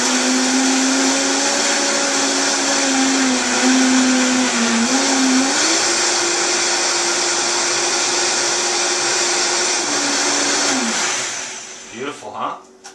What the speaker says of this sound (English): this is the Vitamix, one of my favorite blenders for sure